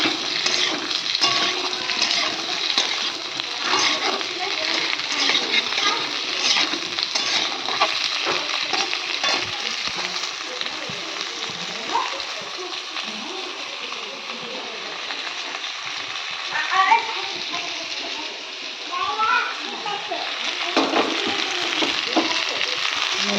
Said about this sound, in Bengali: আলু ফুলকপি একসঙ্গে ভাজা করে নেবো একটু